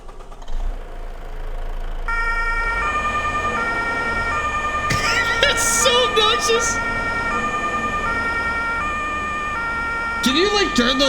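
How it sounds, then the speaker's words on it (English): Emergency vehicle siren in a Canadian farming video game, a loud electronic wail cycling in steady stepped tones over a running engine, with bursts of other sharp sounds breaking in midway and near the end. "I'm turning the siren on because we're close."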